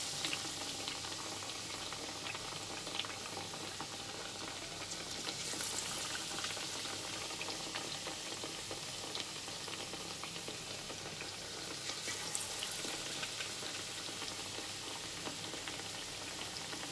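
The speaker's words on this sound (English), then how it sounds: "we'll fry it till it becomes nice and brown" Potato slices for pakora deep-frying in hot oil, giving a steady, dense sizzle and bubbling that runs unbroken throughout with no voices.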